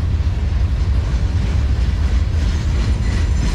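A CSX freight locomotive hauling a maintenance-of-way manifest train winds up its diesel engine, a loud steady low rumble with rail clatter continuing throughout, close by and without voices.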